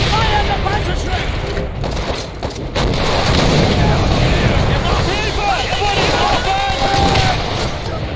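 Call of Duty: World at War combat with a Panzerschreck fired at a tank, set in a dense, loud barrage of gunfire and explosions with shouting voices mixed through it.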